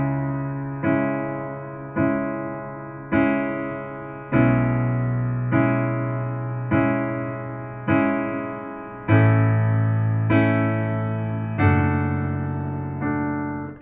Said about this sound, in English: But what if he had written the Moonlight Sonata without using arpeggios?